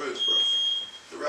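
A high, steady smoke alarm tone holds for about half a second under muffled voices talking nearby in a smoke-filled recording studio.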